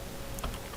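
Keys tapped on a computer keyboard while a website address is typed, a short run of soft clicks close to the microphone over a low steady background hum.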